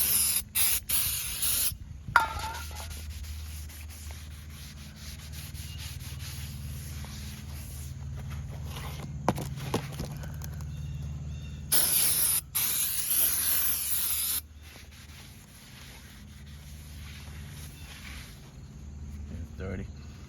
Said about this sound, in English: We're going to spray these with some brake cleaner to wipe off some of the coating that comes from the factory